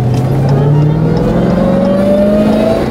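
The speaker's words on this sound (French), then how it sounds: "Je vais faire une accélération en mode valet" A Dodge Hellcat accelerating in valet mode: a loud, continuous engine drone that climbs steadily in pitch over three seconds, with no pauses or voices.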